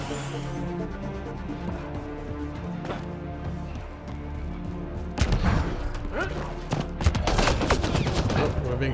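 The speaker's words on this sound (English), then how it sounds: "We're being shot at from over here." In Mass Effect Andromeda, a steady background hum gives way to loud bursts of gunfire and volleys of shots close by, with thuds mixed in during the second half.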